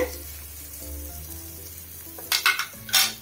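Bread sizzles steadily in a hot buttered pan, a soft continuous fry under faint background hum, broken near the end by a few sharp clinks and scrapes of a utensil against the pan.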